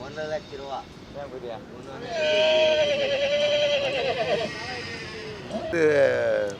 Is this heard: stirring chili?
no